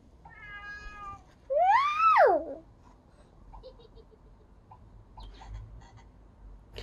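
Short croaking calls mixed with a brief meow-like cry, followed by faint scattered clicks in a quiet room.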